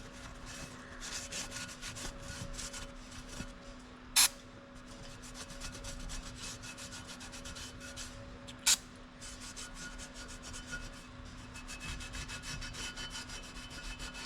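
A rag soaked with brake cleaner wipes over a rebuilt LS cylinder head in a steady, close scrubbing rhythm. Two sharp clicks break the rubbing partway through.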